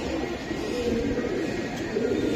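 Giribaz pigeons at a pigeon farm, soft repeated cooing from several birds mixed with a steady background hum, fairly close and moderately loud.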